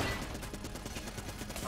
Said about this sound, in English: It's a powerful shotgun. It fires a lot of shots